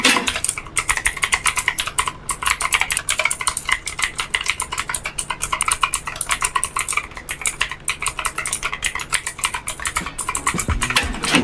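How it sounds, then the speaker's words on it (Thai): Rapid, continuous typing on an Onikuma Fuyu mechanical keyboard with brown switches: dense, close, crisp key clacks in an uneven stream with no speech. "ส่วนตัวที่กูได้มาเนี่ยจะเป็นแบบบูนะเสียงการพิมพ์ มันจะได้ประมาณเนี้ยไปลองฟังดู"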